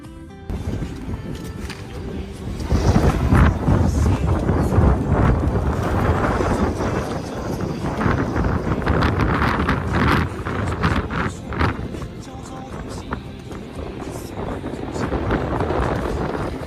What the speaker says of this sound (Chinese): 现在又突然下起暴雨了